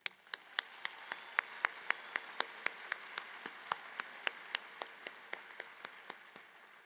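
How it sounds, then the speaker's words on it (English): Audience at a CVCC graduation ceremony applauding, a soft wash of crowd clapping with one sharp, steady rhythmic clap standing out on top of it throughout. "And let's give them a round of applause."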